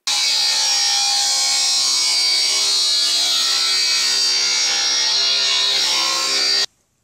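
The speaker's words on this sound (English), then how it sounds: "So let's go ahead and rip that 2x8 down." A power saw rips lengthwise through a 2x8 timber board, a loud, steady, high whine that holds evenly for about six and a half seconds before cutting off abruptly, with no talk.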